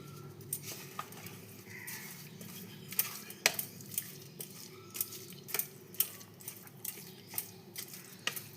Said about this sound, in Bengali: দেখুন আমি কিভাবে মেশাচ্ছি।